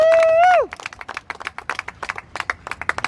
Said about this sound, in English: Can we please clap it up for our City Council Member?